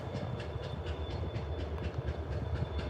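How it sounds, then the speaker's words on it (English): A Norfolk Southern or CSX train rolls past steadily in Chattanooga, Tennessee, its wheels clicking rhythmically over rail joints, with a low continuous rumble at moderate distance. "I think I hear another train."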